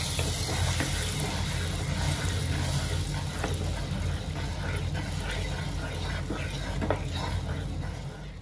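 Hapus mango pulp stirred into hot ghee in a pan over a low flame, a steady close sizzle and soft frying hiss with faint scraping stirs, no talk.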